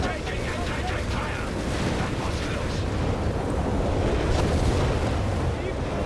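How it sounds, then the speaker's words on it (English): Rumbling, continuous barrages of Nebelwerfer rocket artillery in Company of Heroes 3, a dense wash of booms and explosions that builds slightly in loudness, with a commentator's voice over it. "Massive Nebelwerfer barrages there"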